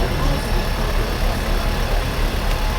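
The engine of a CAESAR French artillery vehicle runs at a Bastille Day parade in Lyon, a loud, steady, close rumble that holds without a break for the whole stretch.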